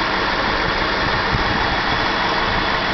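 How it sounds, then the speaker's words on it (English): A 2008 Cadillac DTS with a Northstar V8, a salvage car, idling steadily with a smooth continuous engine hum and no talking. "Nicest sounding engine"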